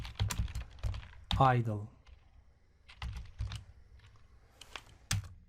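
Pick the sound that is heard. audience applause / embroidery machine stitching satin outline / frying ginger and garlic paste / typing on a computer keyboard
typing on a computer keyboard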